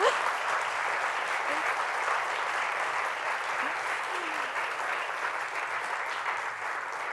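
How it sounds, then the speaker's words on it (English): Audience at a postgraduate research festival keynote applauding an award announcement, a sustained, even round of clapping from a sizable crowd. "let's have a round of applause actually for that"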